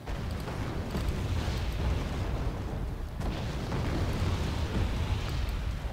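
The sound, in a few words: artillery explosions in Wargame AirLand Battle video game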